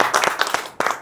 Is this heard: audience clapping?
yes